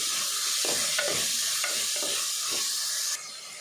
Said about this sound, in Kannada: ಟೊಮೆಟೊ ಸಾಫ್ಟ್ ಅದು ಬೇಯೋಡು ಅದ ಮುಟ್ಟ ಫ್ರೈ ಮಲ್ತಲೆ